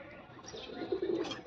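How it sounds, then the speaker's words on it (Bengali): A male pigeon gives soft, low cooing notes that swell in the second half, close by against faint background noise. "এটা হচ্ছে 35-এর একটা নর কবুতর"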